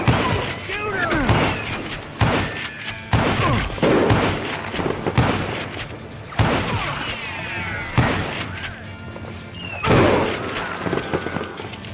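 Gunfire in the video game Call of Juarez: Gunslinger, repeated loud shots and booming blasts in a dense firefight, with voices shouting over the shooting throughout.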